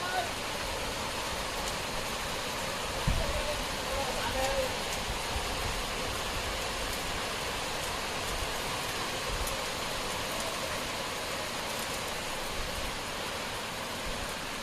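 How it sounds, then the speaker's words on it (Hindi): Heavy raindrops fall in a faint, even, continuous hiss of dense rain that stays steady and unbroken throughout, with no distinct individual drops standing out. "ये मोटी मोटी बूंदों का पानी आ गया।"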